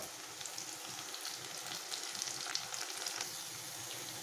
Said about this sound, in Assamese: প্ৰথমতে পিঁয়াজখিনি ভালদৰে সোণোৱালী বৰণ হোৱালৈকে ভাজি ল'ব